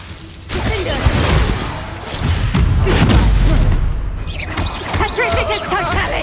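Confringo explosive spell in Hogwarts Legacy bursts with heavy booms and thuds amid a chaotic duel, loud and close, layered with whooshes and other magical impacts throughout.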